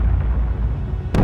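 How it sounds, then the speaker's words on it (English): Distant explosions rumble as low, continuous booms through battlefield drone footage of an assault on a Russian convoy, with a sharper burst arriving near the end. "Explosions remain in the distance."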